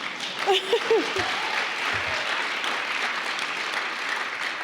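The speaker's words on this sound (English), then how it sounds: "go ahead, clap" Audience applause at an MLK Jr. remembrance ceremony, a broad steady wash of clapping from a crowd that runs throughout, with a brief voice over it near the start.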